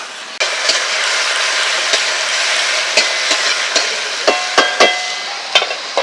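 Garlic, chili paste, ginger and ground cumin drop into a loud, steady sizzle in a crab curry pan, with the scrape and knock of a spoon stirring at intervals and no one speaking.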